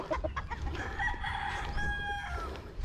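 Young roosters (stags) crow at a small poultry farm, one drawn-out cock-a-doodle-doo rising clearly over low background rumble and scattered clucks, fairly close.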